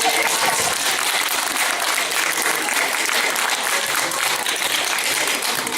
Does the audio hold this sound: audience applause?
yes